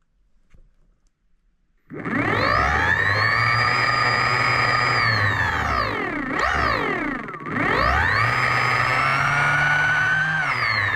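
An E&C ETM 2.0 electric motor in a modded 48v MotoTec starts spinning after a quiet moment, producing a steady, loud, layered whine whose pitch dips sharply twice before climbing back up.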